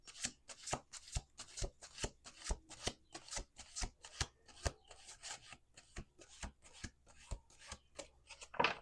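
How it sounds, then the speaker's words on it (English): A deck of playing cards being shuffled at a table, sharp quiet riffles and taps in a steady rhythm of repeated bursts, close and faint with no talk. "I'm gonna do one more shuffle"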